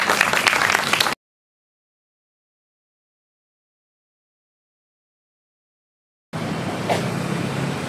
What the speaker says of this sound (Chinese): 请大家掌声欢迎这些舞者